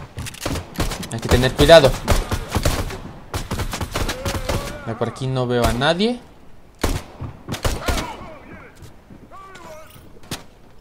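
Gunfire in a Fortnite match, rapid bursts and single shots crackling from nearby and farther off, mixed with game effects while a player talks over the action.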